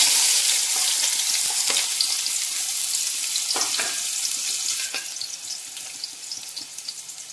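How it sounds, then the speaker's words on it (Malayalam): Sliced onion sizzles in a heated uruli for semiya rava upma, making a loud, dense, steady frying hiss up close that eases slightly toward the end, with a few faint clicks and no voices. "ചൂടായ ഈ ഒരു ഉരുളിയിലേക്ക് സവാളയാണ് ഞാൻ ആദ്യം ഇട്ട് കൊടുക്കുന്നത്"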